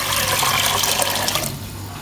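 About a jug of water pours steadily into a cooking pot for boiling lentils, a loud, continuous rushing splash that tapers off near the end.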